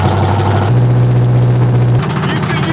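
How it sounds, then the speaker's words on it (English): A race car engine runs nearby, loud and throaty, with a steady low rumble that shifts pitch twice as the revs change. "The 43-year-old cranks his race car up."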